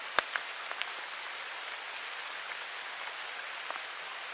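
Steady rain falls in a swamp, a soft even hiss with a few sharper drip taps near the start, heard close and alone.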